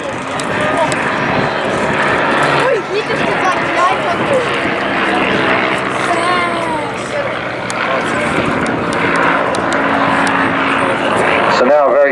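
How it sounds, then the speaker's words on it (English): A Battle of Britain Memorial Flight clipped-wing Spitfire sweeps past at the Blackpool airshow, its piston engine a steady, loud drone that swells and fades, with a commentator talking over it throughout. "It is, of course, the wonderful Spitfire from BBMF. This, as you can see, is a clipped wing version"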